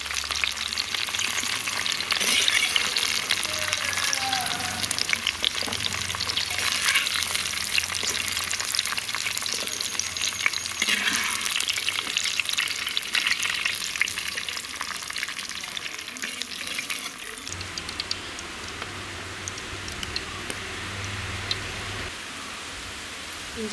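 Cauliflower fries in a pan in a tiny village kitchen, a steady close crackling sizzle with stirring scrapes running throughout and a slight change in tone toward the end.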